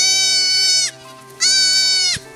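Goats on a Kenyan farm, Gala and local breed, bleat loudly and close by, two long wavering calls separated by a short pause.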